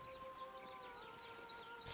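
Harpies singing on a beach in Baldur's Gate III, faint sustained high wavering tones with chirp-like swoops over a low background hum, distant and steady.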